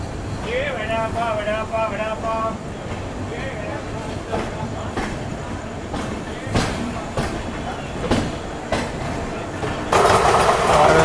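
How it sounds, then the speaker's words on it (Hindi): An SF express sleeper train from Chennai Central rolls out of Vasai Road with a continuous rumble and rattle, rising to a louder rush near the end, while someone talks over the opening seconds. "स्केड्यूल होल्ड 5 मिनट लेने के बाद वसई रोड से हमारी ट्रेन निकल तो गई है"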